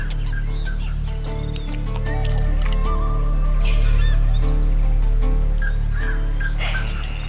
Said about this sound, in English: And that's a black-collared hawk calling.